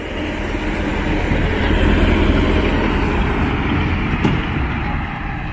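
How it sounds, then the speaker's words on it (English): A little tourist train rolls past the Carnac standing stones in Brittany, France, a steady rumbling drone of wheels and motor held at an even, fairly close level with no speech. "you can get a little train up. There's one just coming now."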